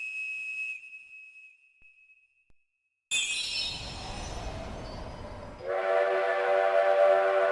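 A steady high whistle tone fades to silence, then the Starflight Express train from Dragon Quest IX arrives with a rushing rumble and a bright, sustained horn-like chime, loud and close.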